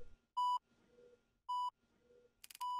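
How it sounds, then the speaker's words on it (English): Hospital monitor beeping in the Roblox game Egg Kevin's House: three clean, identical electronic beeps spaced about a second apart, loud against a quiet background with faint murmuring between them. "Oh, I hear beeping. I'm in the hospital."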